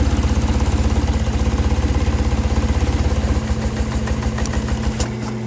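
A small engine idles steadily with a fast, even low putter, close and fairly loud, its rhythm loosening slightly near the end.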